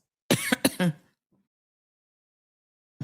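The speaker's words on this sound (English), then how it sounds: "I legit had to cough." A few sharp throat-clearing coughs close up, over in about a second, followed by silence.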